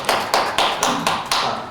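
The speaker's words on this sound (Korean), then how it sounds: "요거는 박수 한번 쳐요" Six crisp hand claps in a steady, evenly spaced rhythm ring out close and clear at a gallery talk during the 13th Lee Seung-geun Art Story event, with no talking over them.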